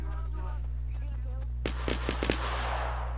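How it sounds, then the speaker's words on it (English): A submachine gun in a squad-based shooter video game fires a short burst of several sharp cracks partway through, over a low steady hum, while players talk. "My submachine gun can't shoot that far"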